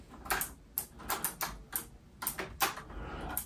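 Keyboard keys pressed to control an Amiga game on a rare ARMIGA emulator, about a dozen sharp, fairly even clicks and taps close by, with no talking over them.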